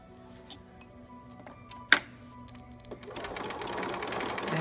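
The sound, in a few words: sewing machine zigzag stitching velcro onto a preemie shirt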